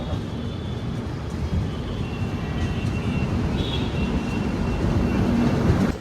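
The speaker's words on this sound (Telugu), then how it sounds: "మన ట్రైన్ ఏమో రేణిగుంట చేరుకుంటుంది అనమాట" Passenger train on the Bengaluru to Howrah express line rolling into Renigunta station, a steady loud rumble of wheels and carriage noise with faint high squeals, heard from inside the coach.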